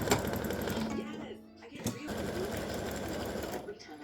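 An embroidery machine satin-stitches part of a tic-tac-toe game board design with gray thread, its rapid needle chatter running steadily throughout with a brief dip in the middle, under intermittent talk.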